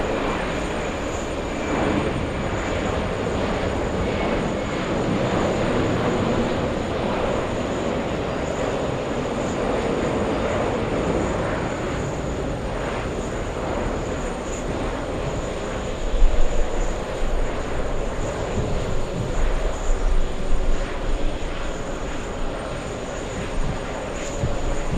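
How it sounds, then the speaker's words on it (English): Delta Airlines Airbus A380 accelerating down the runway and lifting off at JFK, a steady loud broadband jet roar with a high whine, constant throughout with slight rumbling swells near the end, no talking. "We have Delta Airlines A380 racing down the runway"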